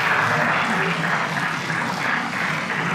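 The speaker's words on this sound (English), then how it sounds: "round of applause for him" An audience applauds at a university debate, dense sustained clapping filling the hall at steady loudness with a faint murmur of voices underneath.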